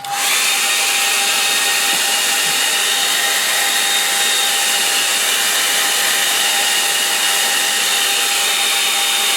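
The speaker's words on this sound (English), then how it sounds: "I'll give it a bit of a help with a blow with your hairdryer" A hair dryer blows loudly and continuously, a steady whooshing roar with a constant whine, starting abruptly and running without pause.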